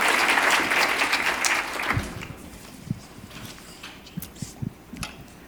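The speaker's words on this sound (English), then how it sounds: "Let's give Leslie a warm round of applause." Applause from an event audience opens fairly loud and dense, then thins into a few scattered claps before dying away into a quiet room.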